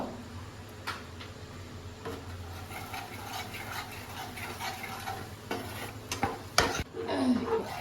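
Spice paste with green chillies fries in a pan on low gas while being stirred, giving a continuous soft sizzle broken by scraping strokes and clicks of the spoon, growing busier near the end.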